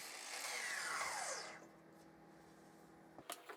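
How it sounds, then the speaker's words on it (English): Table saw cutting a length of melamine, a loud whining cut with a descending pitch as the blade spins down, then a quiet hum followed by a few knocks as the piece is handled. "I start off by trimming a length of melamine to roughly match the width of the table saw sled."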